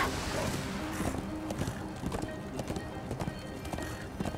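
Horse hooves gallop in a quick, steady clip-clop rhythm in Darksiders II, fairly close and continuous throughout.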